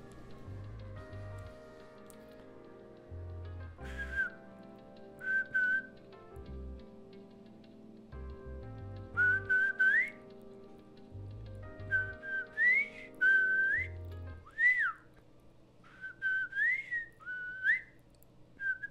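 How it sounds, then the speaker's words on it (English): A person whistles a wavering, halting tune in short phrases over a quiet, repeating low beat, sounding close and somewhat unsteady. "Damn, I suck at whistling."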